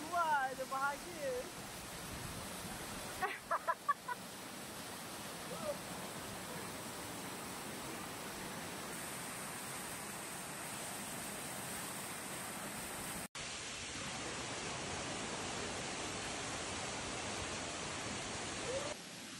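Rushing water at a waterfall produces a steady, broad roar that stays loud and constant throughout, with a few brief voices heard faintly near the start.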